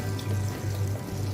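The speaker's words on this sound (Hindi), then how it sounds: "फिर हम इसमें डालेंगे 1 टेबल स्पून विनेगर" A short, close pour of a tablespoon of vinegar into a pan gives a brief, steady wet splashing hiss.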